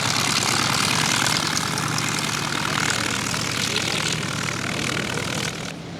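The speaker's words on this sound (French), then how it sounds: "Voilà, au décollage, un Avro Hanson." An Avro Anson Mk.I, a twin-engine propeller aircraft, takes off at an air show meeting at La Ferté-Alais, its engines roaring loud and steady throughout before easing off slightly at the end.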